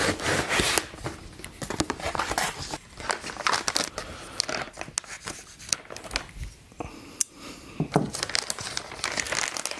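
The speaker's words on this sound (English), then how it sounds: "I'm gonna put the box back together and take this out on top of the box." The cardboard box of an MSI GTX 1060 6GB Gaming X graphics card is handled and closed up, giving close, irregular crinkling, rubbing and scraping with scattered sharp taps and flaps.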